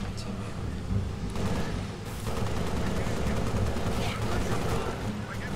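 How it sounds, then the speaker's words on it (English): Rapid Halo Reach gunfire crackles in dense bursts through the whole stretch, loud and near, with a busy game mix of thumps and blasts beneath. "I've been shooting my teammate"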